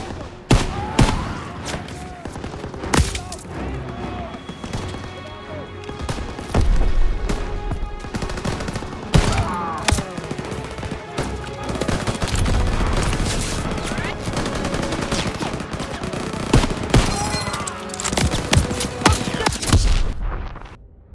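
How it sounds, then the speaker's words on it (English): Machine gun fire from a World War II battle in Call of Duty WW2 rips out in dense, sustained bursts with scattered booms, loud and continuous throughout, with shouting voices mixed into the battle din. "MGs are tearing us up!"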